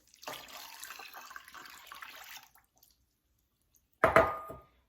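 Water runs steadily for a couple of seconds, stops, then a short, louder splash of pouring follows after a pause.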